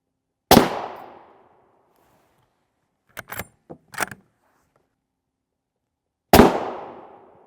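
Two sharp, loud rifle shots of M14A1 armor-piercing incendiary rounds hitting a Soloman NIJ Level IV armor plate, each ringing briefly, separated by quiet with a few small metallic clinks and rattles between them.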